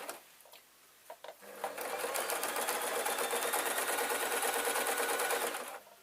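After a few light clicks, a sewing machine stitches the waistband of an adult Scottish kilt, running in one steady, fast whirring burst for about four seconds before stopping; no voices.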